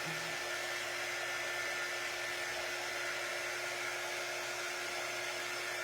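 Steady, continuous whir of a hair dryer blowing on a paper craft project for an autumn leaf centerpiece, close and unbroken throughout with no talking.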